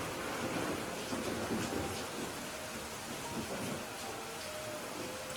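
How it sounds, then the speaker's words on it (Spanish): Steady rain with rumbling thunder, used as a calming backdrop for guided meditation; a dense, even hiss of falling water at a soft level with low rolling rumbles beneath, continuous and without voices. "Escucha el sonido de la lluvia."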